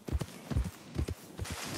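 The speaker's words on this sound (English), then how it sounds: "Horse isn't making the proper noises." A horse in Red Dead Redemption 2 walks with clear, close hoof clip-clops in an uneven rhythm, about a dozen hits, with a faint snort.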